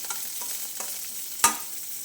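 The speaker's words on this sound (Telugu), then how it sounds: "ఇంకా వేగిపోయినాయి వెల్లిపాయలు కొంచెం దీంట్లో నూనెలోనే మగ్గిపోతుంది" Garlic fries in oil for a tempering, giving off a steady soft sizzle close by with a few light stirring clicks and one sharper scrape near the end, with no voices.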